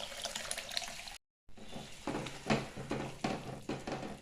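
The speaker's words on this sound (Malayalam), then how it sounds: "കുറച്ച് പുളിവെള്ളം കൂടി ഒഴിച്ച് കൊടുക്കട്ടെ." Tamarind water pours into a pot of fish curry, a steady liquid splash at moderate volume, broken by a short silent gap before the pouring continues.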